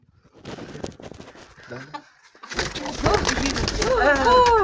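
Pigeons coo in soft, rounded warbling calls that grow louder toward the end, with people talking nearby and some rustling.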